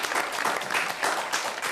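A short, dense burst of audience applause at a Hindi comic poetry gathering, many hands clapping steadily and loudly throughout.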